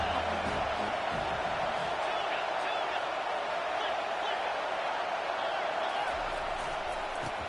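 A stadium crowd roars on third down in a college football video game, a dense, steady wall of cheering at constant loudness throughout, with a commentator's voice partly audible beneath it.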